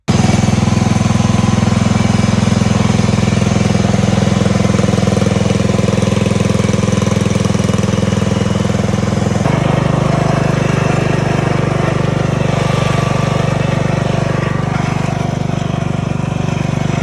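A John Deere 180 lawn mower engine runs loud and close for the whole stretch, a steady rattling drone that shifts pitch slightly midway.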